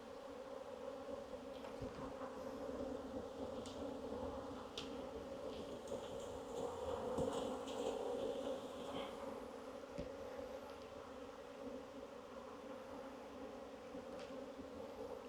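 Many very dark honey bees hum steadily at an opened hive, a dense continuous drone that swells slightly midway, close and fairly quiet, with no talk.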